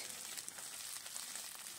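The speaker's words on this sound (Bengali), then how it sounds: "এবার ভালো করে ভাজতে হবে" Chopped onion and crushed garlic fry in hot oil for a garlic and flat-bean dish, giving a steady, close hiss of bubbling and crackling without pause.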